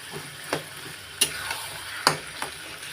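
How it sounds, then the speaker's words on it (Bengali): Spoon scrapes and taps against a pan as taro curry is stirred, with a steady low sizzle underneath and a handful of sharp clinks spaced irregularly, close by and moderately quiet. "ভালো করে মিক্সড করে তারপরে একটু ঢেকে দেবো"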